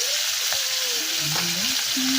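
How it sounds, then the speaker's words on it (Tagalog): Loud, dense frying sizzle of fish in hot oil, a constant bubbling hiss with faint tonal squeaks underneath. "Prito tayo ng isda"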